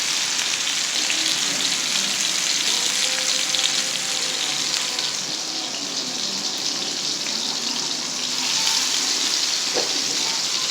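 Minced raw-meat kebab patties fry in hot ghee with a steady, close, crackling sizzle that runs unbroken throughout, with no talking.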